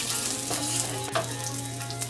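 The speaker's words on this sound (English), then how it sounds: "I'm going to add dried red chili and whole cumin seeds. Let it sputter in the oil." Dried red chili and whole cumin seeds sputtering in hot oil, a close, steady sizzle with small crackling pops and one sharper spit, no voices.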